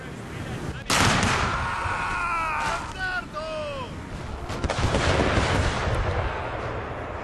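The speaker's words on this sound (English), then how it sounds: "these guys just gonna keep taking these howitzer shots" Howitzer artillery shots in a Master of Europe mod battle: a sharp heavy boom near the start, then rumbling battle noise with distant firing, and someone talking over it throughout.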